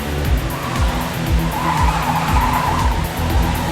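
Race cars roar around the track in the Trackday Manager racing video game, their engines droning continuously while tires squeal and skid repeatedly, with no talking.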